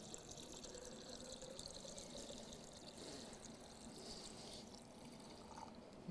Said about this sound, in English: We will pour this liquid then, it's just plain water, in until I get to the maximum line here.